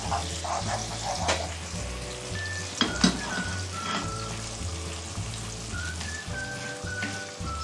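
Finely chopped onion frying in a pan until golden brown: a dense crackling sizzle like rain, with occasional stirring knocks and a faint tonal background hum. Nobody speaks.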